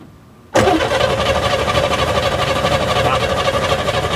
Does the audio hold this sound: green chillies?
no